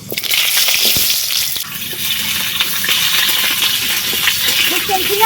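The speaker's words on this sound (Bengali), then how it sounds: "তেল গরম হয়ে গেছে তেলের মধ্যে দিয়ে দিচ্ছি পাঁচ ফোড়ন" Panch phoron spices sizzling in hot oil for a fish curry, a steady bright crackling hiss throughout with small scattered pops, close and fairly loud, no talk.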